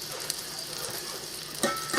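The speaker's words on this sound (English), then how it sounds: "So I'm going to get these burgers cooked." Burgers frying slowly in a pan with melted butter, giving a steady close sizzle with a few brief louder crackles near the end and no talking.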